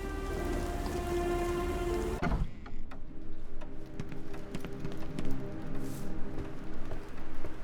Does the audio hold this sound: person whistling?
no